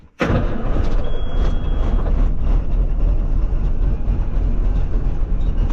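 An old farm truck used for feeding cattle idles with a loud, steady, low engine rumble, running evenly without a break.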